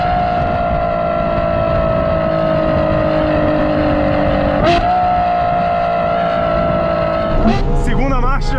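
A Novitec-tuned Ferrari F12 TDF V12 pulls hard under acceleration, a loud, sustained high engine tone that climbs steadily, with an upshift shortly past the midpoint and another near the end as revs rise again.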